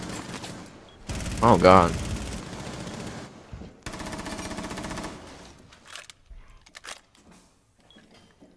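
Automatic gunfire in the shooter Rainbow Six Siege, a loud sustained burst followed by a second stretch of rapid fire, then scattered quieter clatter, with a player's brief exclamation over the shots.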